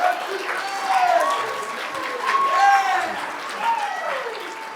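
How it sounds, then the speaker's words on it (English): Applause from a class audience for an organizer at an entrepreneurship leadership event, steady clapping filling the room throughout with a few voices and cheers mixed in. "Let's give her a round of applause because she's amazing."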